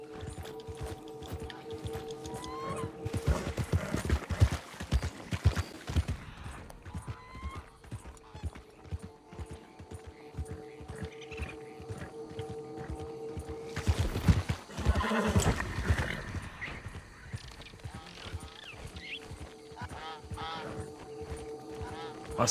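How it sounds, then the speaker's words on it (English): A horse in the video game Red Dead Online gallops with steady clip-clop hoofbeats and lets out a whinny, while someone talks over the action. "I'm jumping back on the horse"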